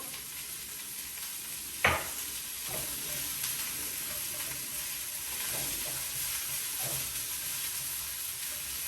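Broccoli coated in olive oil sizzles steadily in a pan, a constant frying hiss with a sharp clatter near the start and a few soft stirring scrapes, heard alone.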